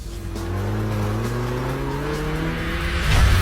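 A white race car driving fast on a track, its engine note climbing steadily in a smooth continuous whine, loud and close with a rising surge at the end; no talking.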